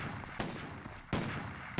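Gunshots in the video game Stubbs the Zombie, three sharp reports spaced apart over low background rumble, fairly faint with no talking.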